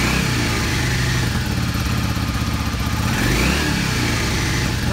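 A carbureted Yamaha Star 650 motorcycle engine with the choke on comes up off a high idle, revving loud and close in rising and falling surges, with no voices.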